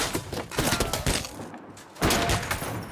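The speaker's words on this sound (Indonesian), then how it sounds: "tiba-tiba dihujani tembakan sama penyerang yang entah dari mana munculnya" Rapid bursts of gunfire in a sudden ambush shootout from the film Bright, dense overlapping shots in quick rolling volleys with a short lull before another heavy burst.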